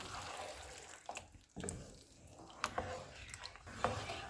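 Yogurt is stirred into mutton in a karahi, giving soft wet squelching and sloppy mixing sounds with occasional light clinks, quiet and close.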